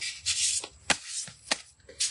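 Tarot cards shuffled by hand, a few quick riffling bursts with sharp snaps in between, close and crisp with no talking.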